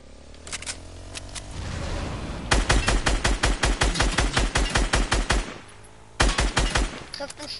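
Rapid bursts of Fortnite gunfire rattle in a fast automatic stream, pausing briefly before another short volley.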